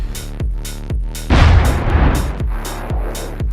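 A giant cannon built in the Minecraft Create mod fires a shell with a loud booming blast, standing out amid a repeating series of sharp mechanical thuds.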